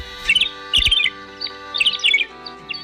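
Thick-billed longspur calling: two pairs of quick, high, twittering chirps, fairly close and clear, with a couple of fainter chips between them and near the end against a quiet background.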